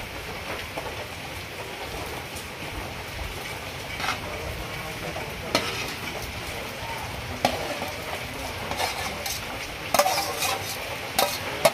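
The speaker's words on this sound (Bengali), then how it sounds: "এই যে খিচুড়ি আমার টকবক করে ফুটছে," A pot of khichuri bubbles steadily while a spoon scrapes and stirs through the vegetables just added. A soft, continuous simmer runs throughout, broken by a few sharper clinks and knocks against the pot, and no one speaks.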